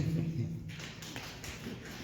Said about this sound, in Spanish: Aplaudan con 3.